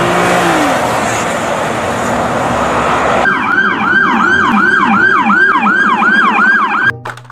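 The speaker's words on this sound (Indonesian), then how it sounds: "Mobil polisi. Wah," A police highway patrol car siren wails loudly and close, first a rapid dense warble over engine noise, then a repeated rising-falling yelp cycling steadily for several seconds before cutting off abruptly, with no talking.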